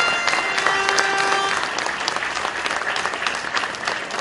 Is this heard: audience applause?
yes